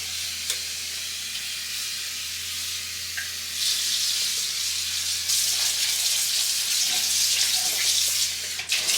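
Running water washing down a kitchen sink, a steady broadband rush that grows louder partway through and continues alone without talk.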